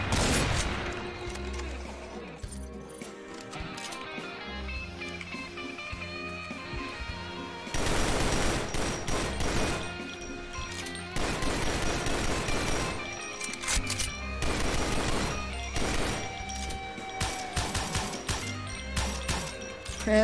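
Gunfire from a shooter in the video game DOOM, with repeated sharp blasts and dense bursts of shots broken by brief pauses, loud and close over a busy game soundtrack, with no voices.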